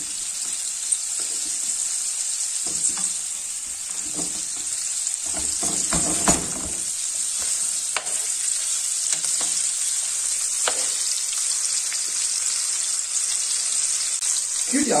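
Turkey meat sizzles steadily in a pan with sauce, with a constant bright frying hiss and scattered stirring and scraping knocks throughout.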